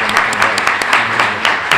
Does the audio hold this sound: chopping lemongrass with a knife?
no